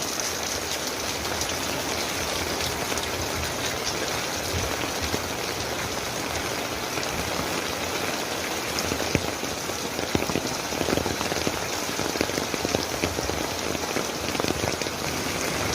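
Steady heavy rain of the rainy season pours down close by, a dense continuous hiss of drops striking surfaces that holds for the whole stretch, with no voices.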